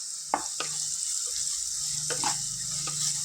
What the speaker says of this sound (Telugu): ఒక టూ స్పూన్స్ సాల్ట్ వేసుకొని దీన్ని ఒకసారి ఫ్రై చేసుకుందాం